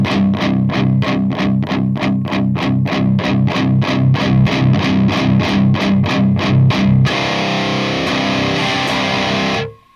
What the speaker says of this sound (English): as I turn this up, it's going to have a bit more distortion and sort of a saturated sound